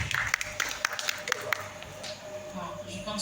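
An audience at a spoken-word battle event claps in scattered, sharp bursts that thin out after a second or two, mixed with talk in the room.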